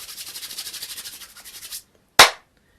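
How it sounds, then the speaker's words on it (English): Used coffee grounds rubbed between bare hands make a close, steady, rhythmic gritty scrubbing for almost two seconds, then a short silence and one sharp, loud rasping burst. "taking a little pinch like this, putting it in my hands, and then scrubbing it"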